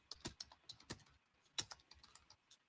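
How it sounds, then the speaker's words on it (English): Faint keyboard typing and mouse clicking come over a remote call connection as an irregular patter of sharp, quiet taps, alone with no voices. "I can hear him like typing and clicking."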